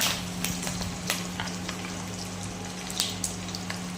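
Onion with mustard seeds, cumin and curry leaves frying in oil until golden for sambar, a steady close sizzle with occasional stirring clicks and a low constant hum underneath, no voices.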